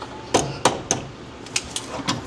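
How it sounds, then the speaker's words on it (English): Seven sharp metallic strikes at uneven intervals, close by, hammering a stuck part while installing an adjustable control arm on a Mitsubishi 3000GT, with short pauses between blows and no talking. "I'm just gonna hammer it with this."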